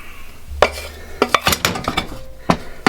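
A vegan tofu pie filling for a Mexican-style filo pie being mixed in a bowl, with a utensil clinking and scraping against the bowl in a series of close, uneven knocks and stirs.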